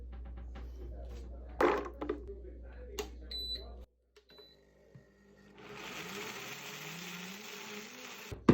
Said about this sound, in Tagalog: So, ready na ito ilagay sa ating high-speed blender.